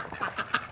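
Barn ducks quacking in a wintry farmyard, a quick run of three or four nasal quacks close by, each brief and fairly loud, with no talk over them.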